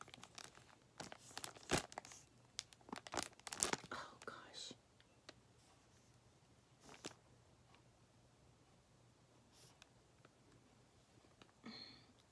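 Paper crinkles and rustles as a cross-stitch sampler is unwrapped, in a cluster of sharp crackles that then fades to sparse, quiet handling, close to the microphone.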